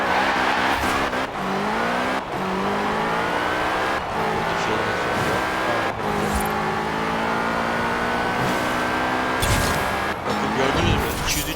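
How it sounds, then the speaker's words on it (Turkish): A modified car in Forza Horizon 4 screams at high revs near top speed, its engine note climbing repeatedly between quick gear shifts, loud and continuous with sharp breaks at each shift. "Araba bayağı bir hızlandı."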